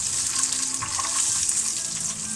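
Onion slices hitting hot oil in a Hong Kong-style stir-fry produce a loud, continuous close-up sizzle with crackling spatters, steady throughout.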